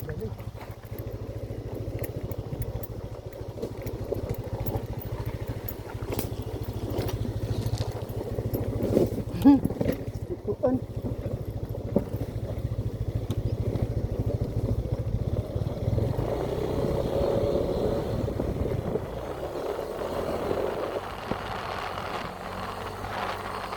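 A Yamaha Aerox scooter carrying a rider and a passenger climbs a steep uphill road on a highland ride, its engine droning steadily and moderately loud throughout, with people talking over it.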